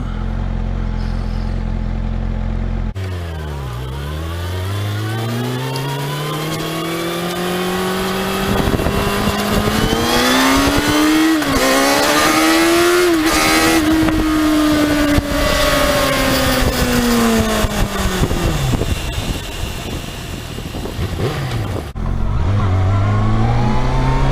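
A 2019 636 sport motorcycle accelerates hard while being ridden, its engine note rising through several gears with sharp shifts and a loud, steady whine up close before easing off near the end.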